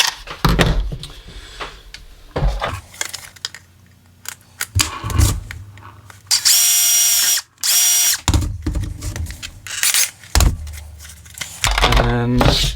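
Power drill boring through a Kydex holster for a Canik TP9 SFX, heard in short bursts of high whining spin between quieter workshop handling noises, fairly close and loud.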